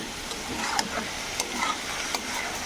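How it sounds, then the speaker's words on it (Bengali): A dalia khichuri mixture fries and sizzles in a pan while being stirred, the steady hiss punctuated by several scraping stirs at close range, with no speech. "এগুলোকে একটু আমরা ভাজা ভাজা করব যেন সবগুলো একসাথে মিক্স হয়ে যায়।"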